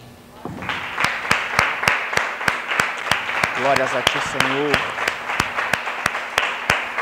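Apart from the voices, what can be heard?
congregation applauding in church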